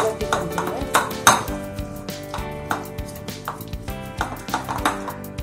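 Chocolate cake mixture stirred in a pan for a pressure-cooker cake, with repeated clinks and scrapes of a utensil against metal in an uneven rhythm, close and fairly loud.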